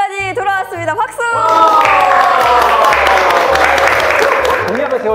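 Studio audience bursting into sustained applause and clapping in a Korean talk show with lawyers, loud and dense, following a short stretch of talk at the start.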